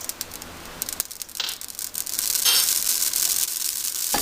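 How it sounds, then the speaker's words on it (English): Amaranth grains popping in a hot pan, a steady hiss studded with quick crackling pops that grow denser and louder as the grains heat, with no talk. "Now it's starting to pop out of the pan"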